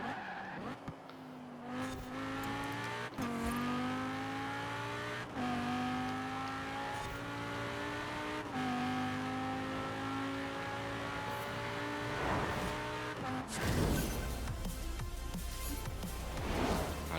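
A mid-engined, four-wheel-drive Lamborghini in Forza Horizon 4 holds a loud sustained engine whine through corners, pitch dipping and climbing with gear changes, tires squealing near the end.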